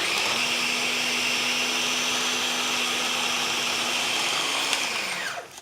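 An electric mixer beating room-temperature butter with sugar and bicarbonate of soda: a loud, steady motor whine running close and unbroken, with a clink before it winds down at the end.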